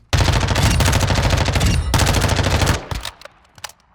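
Rapid automatic gunfire at the firing range in Modern Warfare II, a loud sustained burst lasting over two seconds with a tiny break, then a few scattered trailing shots and mechanical clicks as it stops; nobody speaks.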